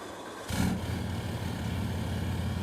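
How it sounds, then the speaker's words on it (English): A 4th-generation Cummins diesel truck engine cranks and fires up, settling into a low, rumbling exhaust idle that continues steadily, nearby and fairly loud. "I'll let you guys get another exhaust sound because the first one wasn't that good, so I'll start her up."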